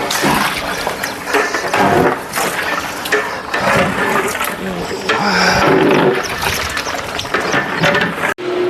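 Water splashing and draining from soaked rice for a large batch of biryani, a loud continuous rushing and pouring with surges, voices faintly under it.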